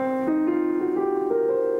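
A musical scale rises note by note in a loping swung rhythm, a clear sustained tone played alone at moderate loudness.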